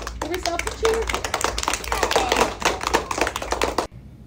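An elementary school class claps and cheers for themselves, a dense burst of many hands clapping with excited voices that carries on for several seconds before cutting off abruptly.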